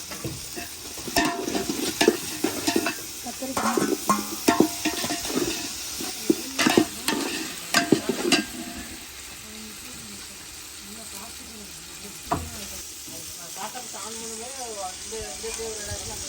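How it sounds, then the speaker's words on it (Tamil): Curry leaves are dropped into hot oil in a frying pan and stirred, giving crackling sizzle and scraping of a spoon against the pan, busy at first and quieter later, while people talk over it. "கருவேப்பிலை போட்டுக்கிறோம்"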